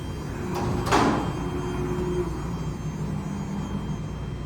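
An old Otis freight elevator door slides shut with a loud scraping rush and a clunk, followed by a steady electrical hum from the elevator machinery.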